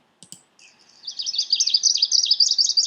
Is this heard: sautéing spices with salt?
no